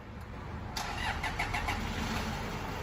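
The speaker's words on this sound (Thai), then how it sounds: "สตาร์ทรถครับ" A Toyota Vigo pickup engine cranks and catches partway through, then settles into a steady, close running rumble with no talking.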